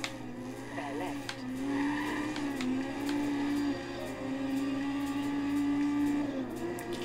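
Tires squeal and skid through a drift in the Forza racing game, a long sustained screech rising and falling over a steady engine drone, with brief clicks on top.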